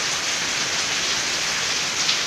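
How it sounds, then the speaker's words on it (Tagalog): Heavy rain pouring down in a dense, unbroken roar of drops on surfaces, loud and steady throughout with no voices. "Yan ho yung malakas na ulan."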